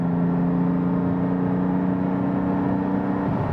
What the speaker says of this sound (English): I'll drop a gear and I'll just cruise along the motorway with the valves open